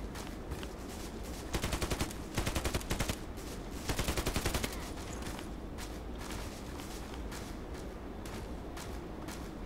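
Gunfire in the shooter game Contract Wars: several rapid automatic bursts, each a quick string of sharp cracks, set against a constant background of game noise and footsteps.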